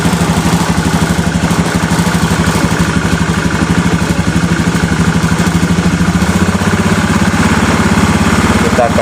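A Honda Vario 110 fuel-injected motorcycle with an electrical fault runs its engine, given a little throttle: a loud, close, steady mid-pitched putter that holds even with a slight lift near the end.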